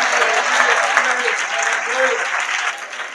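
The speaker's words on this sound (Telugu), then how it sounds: "గట్టిగా చప్పట్లు కొట్టి స్తోత్రం" A church congregation claps hands loudly in praise, a dense, sustained burst of applause from many people, with voices calling out over it.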